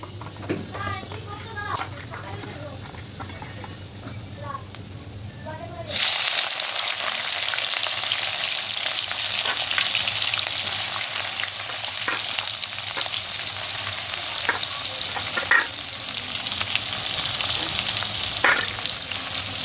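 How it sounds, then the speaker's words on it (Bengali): Whole cumin seeds dropped into hot oil, giving a sudden loud sizzle that stays steady and crackling, with someone speaking before and during the frying. "তেল কিন্তু গরম হয়ে গেছে, আর দিয়ে দিচ্ছি দেখো গোটা জিরে"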